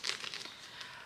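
Plastic bag crinkling close to the microphone, a soft rustle with a sharper crackle at the start, then lighter scattered crinkles, quiet overall.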